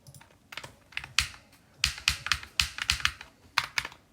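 Rapid mouse or key clicks while playing the Geometry Dash level Sonic Wave, sharp close clicks in irregular bursts, some grouped in quick runs of several.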